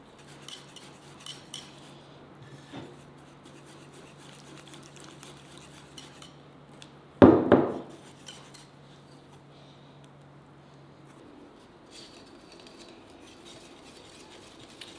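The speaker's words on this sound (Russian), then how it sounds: "Все это наше дело мы взбиваем венчиком" Batter for homemade chicken nuggets whisked in a bowl, a soft, quiet scraping and clinking of the whisk against the bowl, with one louder knock midway and no talking.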